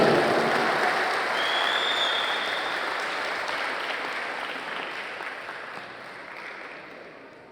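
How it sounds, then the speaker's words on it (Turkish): A large crowd claps loudly at a live outdoor award ceremony in Agdam, a dense, sustained burst of applause that gradually fades over several seconds. "Gürültülü alkışlar gəlsin."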